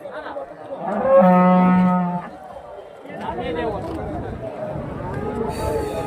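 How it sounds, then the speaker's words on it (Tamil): A cow at a cattle market in Chintamani, Karnataka, gives one long, loud, low moo close by, followed by a busy crowd and people talking over livestock noise. "ஃபுல்லாக பெரிய பெரிய மாடுங்க தான் இருக்குங்க"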